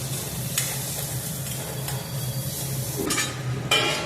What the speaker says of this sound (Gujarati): પછી તે બધું સારી રીતે હલાવીને મિક્સ કરી દઈશું.